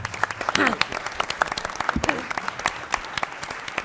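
Scattered applause from the audience at a 2019 Bloomington candidate forum, individual claps popping irregularly while a voice talks over them.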